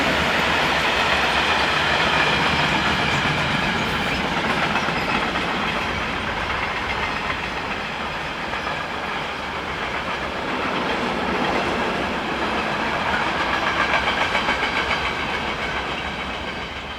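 Swiss freight train bound for Zurich's Limmatal yard, hauled by two locomotives, rumbling steadily past at close range with a continuous loud roar and rhythmic wheel clatter throughout.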